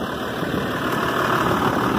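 A John Deere 6180J tractor engine runs loud and close with a dense low rumble, its revs nudged up slightly while it idles, with no talk over it.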